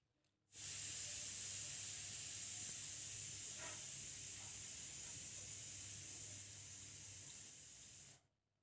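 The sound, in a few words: katla fish pieces sizzling as added to hot oil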